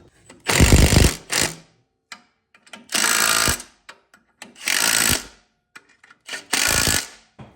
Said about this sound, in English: So I'm tightening down the bolt that goes to the pressure plate